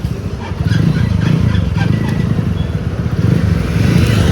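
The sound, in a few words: motorcycle engine started with the starter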